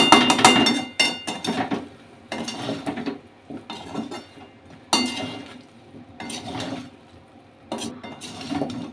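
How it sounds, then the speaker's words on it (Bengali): Spices and ingredients stirred and sautéed in a pan for an oil-free vegetarian dish, with repeated clanks and scrapes of a spoon against the pan coming in uneven bursts, close and fairly loud. "আবারও সমস্ত উপকরণগুলোকে ভালো করে মিক্স করার সাথে সাথে একটু কষিয়ে নেব"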